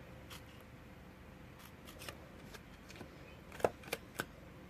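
Scissors snip a small V-shaped piece out of paper to form a fringe, a few faint soft cuts followed by three sharper closer snips near the end.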